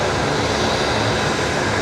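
A Velocity Boeing 737 jet rolling at Brisbane Airport at night makes a loud, steady broadband engine roar with no breaks across the whole span.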